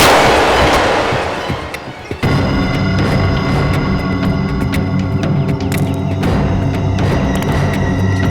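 Gunfire in a tense police standoff, one sharp shot near two seconds followed by a dense, steady wash of loud sound effects and rumbling music-like drones.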